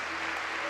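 Church congregation applauding together during a worship service, a dense, steady wash of clapping filling the space without pause for the whole moment.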